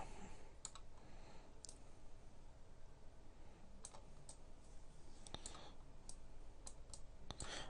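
Sharp computer mouse clicks come in scattered bursts, close and crisp, over a steady noisy hiss while a Radiant zombies map is being edited.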